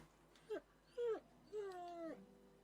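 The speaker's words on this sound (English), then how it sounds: "We'll pet the dog." Dog in the video game Pillars of Eternity giving three short whining, moaning yelps, the last drawn out, close and clear against a quiet background with no talking.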